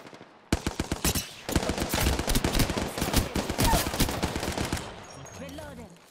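Rapid automatic gunfire from a weapon in the video game Apex Legends cracks out in fast bursts, loud and close, broken by a short pause before a second long burst and then quieter game sounds.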